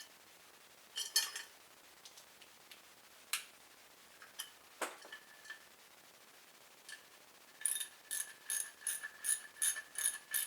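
A ratchet tightens a bolt on a 3800 V6 cylinder head, heard as scattered faint clicks and then a quick run of close, crisp ratcheting clicks near the end in a quiet space.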